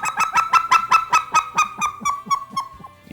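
Fast clucks blown on a goose call imitating specklebelly geese, about a dozen sharp, evenly spaced honking notes, close and loud, easing off slightly toward the end.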